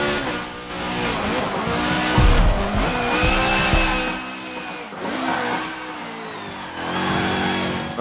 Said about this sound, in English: I just kind of really pushed the car there and tried to see, you know, what happens